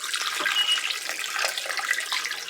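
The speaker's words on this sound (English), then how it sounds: "I want to go ahead and pour in about 4 cups of water." Water pouring steadily into a stew pot, about four cups, a continuous splashing trickle lasting the whole moment, close and fairly loud with no talking.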